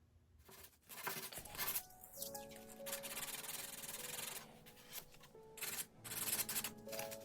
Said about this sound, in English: I'm just going to use a piece of 220 grit sandpaper and hit the edges and the corners